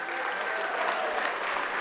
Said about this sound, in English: Let's give one last round of applause to our host, Frederica Williams.